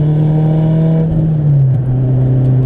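A car engine revs up on a downshift, a loud, close, sustained roar with a rising then settling pitch and a brief dip partway through, with no voices over it.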